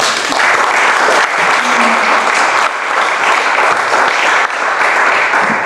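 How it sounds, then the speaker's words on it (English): A literary event audience gives loud, sustained applause for a young author at a touring writers' event, with dense clapping close by and no talk over it. "Big applause, please."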